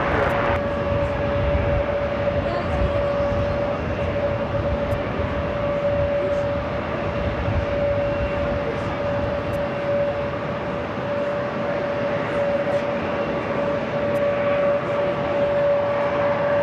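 A jet airliner on the runway at JFK airport, a loud steady engine roar with a sustained whine that holds evenly throughout, with no talk.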